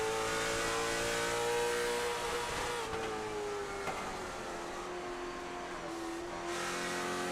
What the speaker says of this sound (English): You can just hear that little bit of hesitation on the throttle, waiting to pick up the throttle as he gets out of the corner